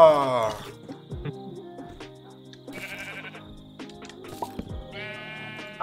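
Several wavering sheep bleats from Minecraft ring out at different moments, synthetic and game-like, set against soft background tones and occasional clicks.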